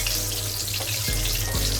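Whole dry spices sizzle in hot oil with a constant, close, hissing crackle that runs unbroken through the short moment, with no voices over it.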